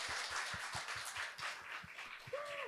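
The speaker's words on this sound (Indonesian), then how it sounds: "tepuk tangannya kencang sekali." Audience at a village small-business empowerment event in Indonesia claps loudly together, steady dense clapping with rhythmic beats throughout, fairly quiet overall.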